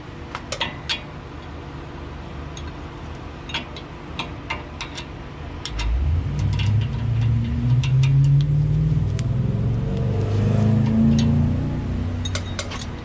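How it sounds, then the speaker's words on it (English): An Amazon delivery truck speeds past near a driveway where rear brakes are being worked on; its engine swells from a low rumble into a loud roar, with scattered metallic clicks and tool ticks before and during the pass. "Sound like he's hauling ass in that damn Amazon truck"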